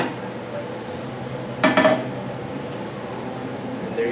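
A piece of aquarium glass handled during a DIY refugium build, giving a short burst of close glassy clinks and knocks over a steady background hum.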